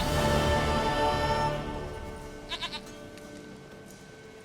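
A goat bleats in The Witcher 3 video game. A sustained tonal bed fades out first, then three quick wavering bleats follow close together, near and distinct in a quiet scene with no speech.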